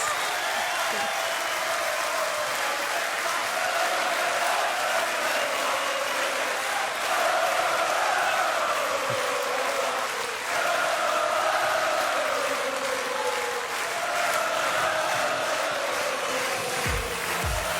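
A large crowd at the Tour de France team presentation in Copenhagen cheers and applauds continuously, a loud sustained roar with announcer-style voices and rising shouts drifting over it.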